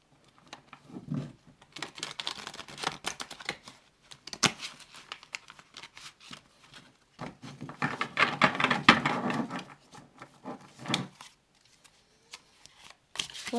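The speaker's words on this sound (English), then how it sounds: "Let's shuffle one more time." Tarot cards riffle and patter in bursts of shuffling, close by, with brief pauses between flurries and no talking.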